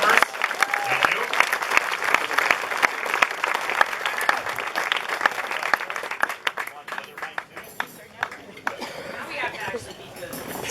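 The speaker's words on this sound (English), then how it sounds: "if we could have a round of applause to pump up the performers" An audience at an award honor event claps for the performers, sustained, fairly close applause with a few voices mixed in before it starts to thin out.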